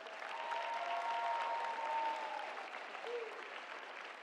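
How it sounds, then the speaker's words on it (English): Audience applause at a high school graduation ceremony, a steady wash of many hands clapping in a large hall, fairly faint and distant, with a few indistinct voices mixed in. "Give them a round of applause."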